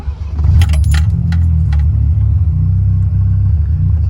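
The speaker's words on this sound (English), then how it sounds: "idle starts to go down a little bit right there" A 1979 Mazda RX-7 rotary engine idles with a steady low rumble, and a brief jingle of keys is heard near the start.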